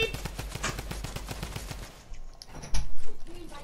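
Rapid SMG gunfire in a video game rattles off in a fast continuous burst for about two seconds, then tapers into a few scattered shots and thuds.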